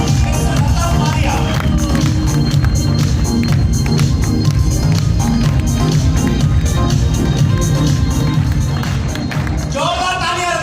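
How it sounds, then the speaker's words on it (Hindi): A large crowd at a network-marketing friends meet gives loud, continuous applause and cheering as a guest is welcomed on stage, a dense roar of hands and voices over music, briefly tapering at the end. "जोरदार तालियों के साथ मिस्टर रतन पारिया"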